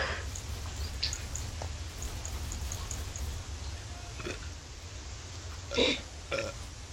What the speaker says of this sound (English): I can't tell if you're making noises or just burping uncontrollably.